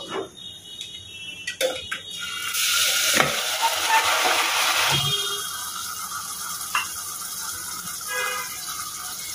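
Meat dropped into a pan of deeply browned, crisp fried onions with salt and a little turmeric, bursting into a loud sustained sizzle with scattered clinks and scrapes from stirring.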